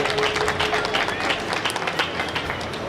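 Loud applause from a crowd gathered for a tricolour march and Azadi ka Amrit Mahotsav celebration in Vivekanand Puri, dense sustained clapping over a murmur of crowd noise.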